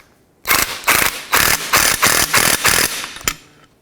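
A power tool drives the upper ball joint nut on a 2004–2008 Acura TL front suspension in about seven loud, close bursts of whirring hammering, each roughly a third of a second, with short gaps between.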